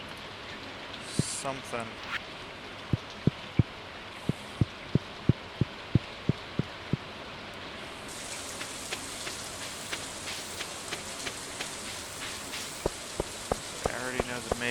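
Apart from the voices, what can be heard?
rainstorm in video game Stardew Valley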